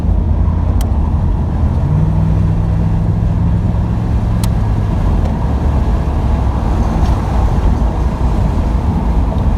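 A 1987 Chevrolet Camaro IROC third-generation, on its first drive in years on new tires, gives a steady loud engine and road drone from inside the car, with a low tone rising briefly and then settling.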